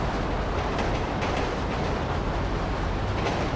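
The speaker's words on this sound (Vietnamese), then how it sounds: "Có một chiếc xe lửa vừa chạy qua kìa." A train passes in the GTA 5 video game, heard as a steady, dense rumble with a faint rhythmic clatter that stays loud and even throughout with no speech.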